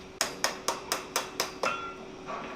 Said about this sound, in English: we're going to use back face hammer blows to drive and upset that material back